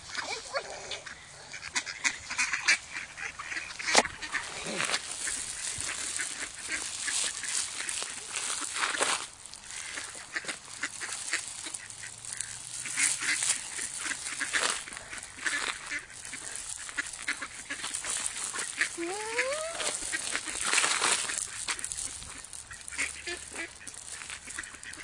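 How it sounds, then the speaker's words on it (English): Geese and ducks honk and quack repeatedly while being fed outdoors, a busy flock calling at moderate distance with a brief rising call near the end, and occasional children's and adults' voices mixed in. "let's feed the big duck"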